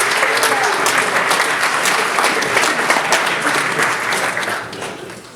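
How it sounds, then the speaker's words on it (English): Audience applause at a university graduate event, a dense, steady clapping from a sizable crowd lasting several seconds and tapering slightly at the end. "let's give them a round of applause and say thank you"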